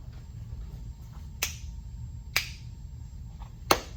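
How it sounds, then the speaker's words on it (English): Three crisp finger snaps sound at spaced intervals over a low steady hum, each a sharp, close, isolated crack. "short spikes, like a snap,"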